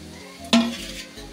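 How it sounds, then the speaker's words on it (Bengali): Green chillies hitting lightly fried onions in a hot pan for fish rezala give a sudden close sizzle burst that flares, then fades into a softer steady frying hiss. "এই দেখো পেঁয়াজটা আমার হালকা হালকা করে ভাজা হয়ে গেছে। এর মধ্যে এবার আমি কাঁচা লঙ্কাটাও দিয়ে দেবো।"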